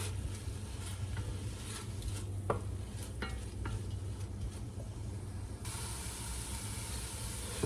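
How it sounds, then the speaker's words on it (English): Chopped onions cooking in a pot, a soft continuous sizzle with occasional faint stirring clicks, quiet and steady, no voices. "You're going to cook this for about 3 to 5 minutes until the onions are clear and soft."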